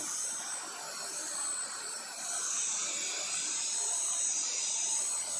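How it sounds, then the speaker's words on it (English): A Dyson Cyclone V10 cordless stick vacuum cleaner running: a steady, loud motorized whir with a bright high-pitched hiss, continuous and close, with no pauses or talk over it. "I think you can still hear my voice over the sound of the vacuum."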